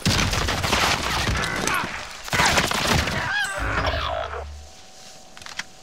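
Gunfire in Call of Duty: Modern Warfare, a dense fusillade of rapid shots in two bursts, followed by quieter scattered pops and lingering ambient noise.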